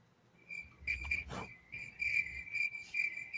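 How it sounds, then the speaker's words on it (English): Crickets chirping as an inserted sound effect, a steady high pulsing trill repeating in short bursts, fairly faint, with a brief whoosh near the start. "again, crickets."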